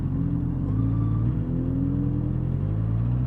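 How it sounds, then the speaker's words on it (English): A car engine passes close by, a steady low mechanical drone with a tone that rises slightly, then settles, over a few seconds. "you know what, that car didn't even sound that bad."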